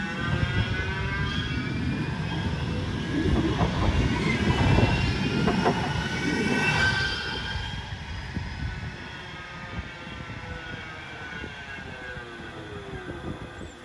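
A tram rumbles past at moderate distance in Greater Manchester, a steady low rolling roar that swells in the middle and then eases off, with no voices.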